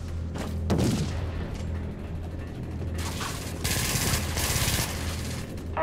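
An orbital bombardment in the Dust 514 video game, heard as dense, sustained rattling blasts and rapid gunfire-like bursts that swell in intensity partway through, with no talking.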